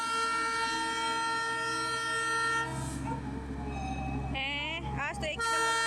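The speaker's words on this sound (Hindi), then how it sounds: "हेलो गाइस देखिए, ट्रेन आ रही है।" The Darjeeling toy train arrives with a loud, sustained horn blaring over rumbling rail noise, then a shorter wavering horn blast and a final renewed blare close by.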